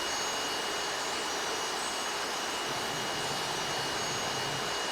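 A T-37 Tweet jet engine in Flight Simulator roars in a constant, loud, high-pitched whine with dense broadband hiss, steady and unbroken, with no other sounds.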